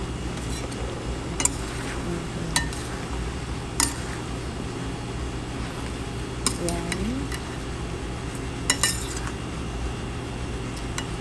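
A utensil stirs blanched vegetables for chop suey in a pan, giving scattered sharp clinks and scrapes at irregular intervals over a steady background hum.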